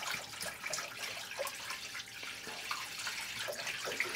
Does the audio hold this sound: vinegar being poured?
yes